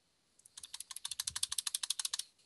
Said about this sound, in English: You're like clicking so loud you can hear it through the mic.